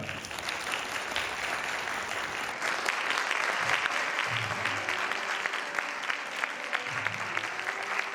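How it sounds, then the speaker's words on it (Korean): Wedding guests in a hall clap warmly and continuously, a dense, sustained round of applause with a few scattered murmurs underneath. "큰 박수 부탁드리겠습니다"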